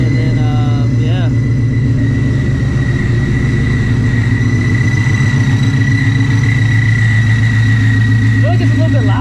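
A supercharged 900 hp Shelby GT350 idles just after its first startup, a loud steady rumble with a constant whine, while people talk over it.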